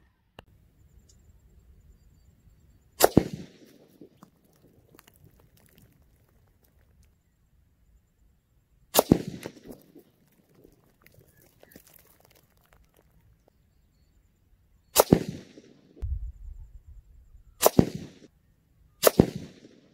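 A Tikka T3 Hunter rifle in .223 Rem fires five sharp, isolated shots spaced several seconds apart, each a brief crack with a short tail, heard from a distance over quiet outdoor background.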